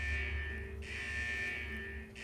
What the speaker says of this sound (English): Is that the central alarm of the vault?